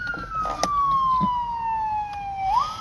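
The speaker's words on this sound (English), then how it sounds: "There's an ambulance coming into the Walmart." An ambulance siren wails as it pulls into a Walmart parking lot, a single loud tone sweeping steadily down in pitch over a few seconds, then jumping back up at the end, with faint traffic noise underneath.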